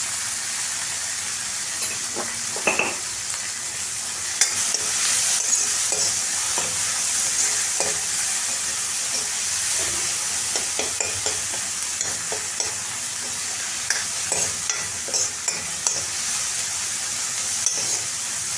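Tomatoes frying in a hot pan with onions for a simple mor kulambu, a steady loud sizzle running throughout with repeated scraping stirs and small clinks of the spoon against the pan.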